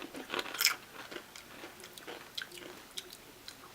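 Close crunching and chewing of flavoured potato chips, irregular crisp bites loudest at the start and then softer intermittent crunches, with no talking.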